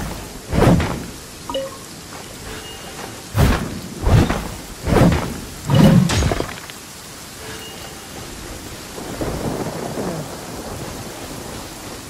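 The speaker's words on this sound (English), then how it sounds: "And a lot of thunder and lightning." A thunderstorm with rain in the video game Genshin Impact, with a steady rain hiss under a string of loud thunder cracks and rumbles in quick succession and one brief murmur from a voice.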